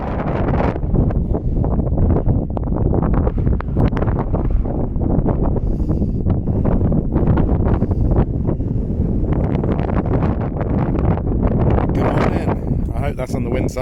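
Strong, continuous wind buffets the microphone and a winter wild-camp tent pitched in high winds, with loud gusting roar and flapping fabric throughout; a voice talks over it.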